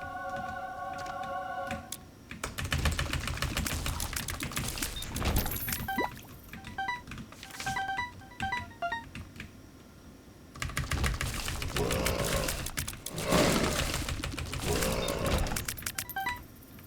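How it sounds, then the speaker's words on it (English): Computer keyboard keys clatter in rapid bursts during Binding of Isaac gameplay, close and fairly loud, mixed with game beeps and music; the typing pauses briefly near the middle before resuming in dense runs. "Sorry if you can, like, hear my keyboard in the background"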